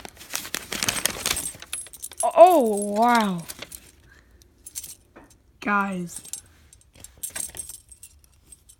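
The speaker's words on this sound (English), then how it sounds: "Here are my keys." A set of heavy metal keys for Fury handcuffs jangles close by in bright, rattling bursts, with someone speaking briefly between the shakes.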